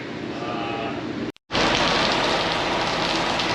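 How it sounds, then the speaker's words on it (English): Steady rain falls outdoors, a dense, loud hiss that drops out for a moment and then resumes at full strength. "It's raining out very nicely, so we ain't gonna be able to chop nothing at all today."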